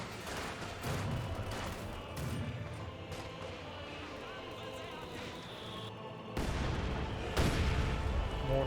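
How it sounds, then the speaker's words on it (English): Mortar shells landing in a Company of Heroes 2 battle, heavy booming impacts and scattered gunfire through a dense wartime din, with a louder burst near the end, under a commentator's talk. "Mortar hits there."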